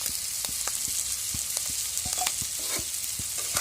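Egg noodles frying in a pan make a continuous sizzle, broken by repeated short scraping taps as they are stirred and turned, heard up close with no talking.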